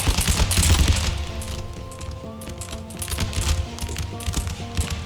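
A close, heavy musket volley from Russian line infantry in an Empire: Total War battle mod rolls out as a dense crackling burst, followed by scattered shots and battlefield clatter under a sustained musical drone.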